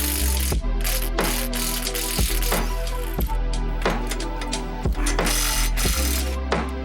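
A ratchet with a breaker bar works on a stubborn lower ball joint bolt on a 2013-2018 Mazda 3, giving a steady run of loud, close metallic clicks in a regular rhythm.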